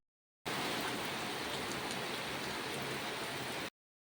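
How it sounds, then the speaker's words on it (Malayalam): Steady rain falls without a break for about three seconds, a dense, even hiss that starts and stops abruptly, with no voices over it. "പിന്നെ നല്ല മഴ പെയ്തിട്ടുണ്ടായിരുന്നു"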